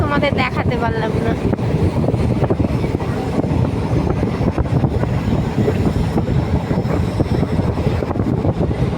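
A moving train rumbles steadily and loudly throughout, with rail clatter and wind buffeting the microphone close by.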